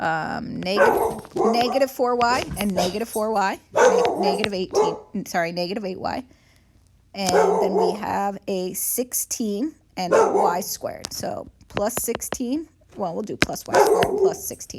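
A pet dog barks and yips indoors in the background of a math lesson, its short sharp barks scattered under a person's continuous talking.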